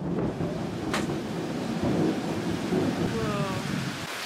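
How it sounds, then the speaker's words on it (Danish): Heavy tropical rain in Bali pours in a steady, dense hiss, with a low rumble of thunder underneath and a brief sharp knock partway through. "jeg ved, om man overhovedet kan høre mig på regnen"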